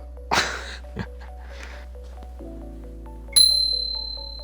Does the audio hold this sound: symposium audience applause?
no